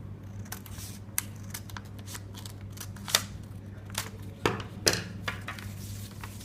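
Scissors snip through fabric while cutting pieces for a dhoti salwar, a series of close, crisp clicks and slicing snips at an irregular pace, with no talking.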